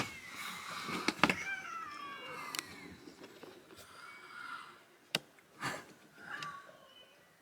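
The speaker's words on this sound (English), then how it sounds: "They have a cat infestation." Many cats meowing and caterwauling around a liveaboard boat moored in Greece in winter, several overlapping nearby meows and wails with scattered thumps and knocks in between.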